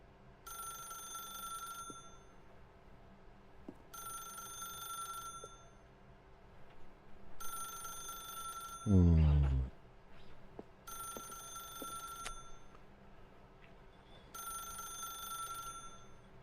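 A telephone rings in The Stanley Parable, with five evenly spaced bursts of bright electronic trilling separated by pauses, and one brief louder thump partway through.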